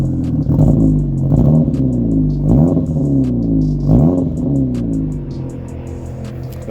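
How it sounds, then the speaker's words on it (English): An Audi 1.8T with a big turbo revs through a custom exhaust with a 3-inch bullet muffler into a Borla XR1 muffler, loud and close, with several sharp blips rising and falling over a rumbling idle. "there's a 3-inch bullet muffler which goes to a Borla XR1 muffler. I think it sounds pretty good."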